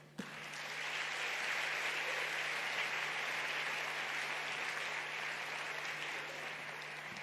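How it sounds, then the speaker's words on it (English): Conference audience applauding at the Africa Climate Summit 2023 in a large hall, a sustained, even round of clapping that holds for several seconds without speech. "A bigger round of applause, please, as they take their seats."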